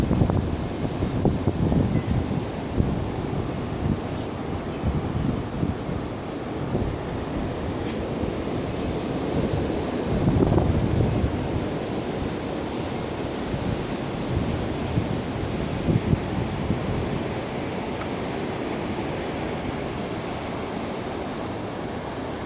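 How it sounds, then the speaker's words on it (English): Cold, stormy wind gusts roar continuously, a dense broadband rush that swells and eases in waves, loud and close with no talking. "It's like you can hear the gust going that way, the gust going that way."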